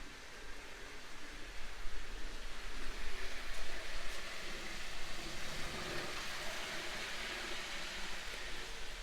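Model train with old cars circling a layout loop at full power, giving a steady low rumbling and rattling run that carries on alone without any talk.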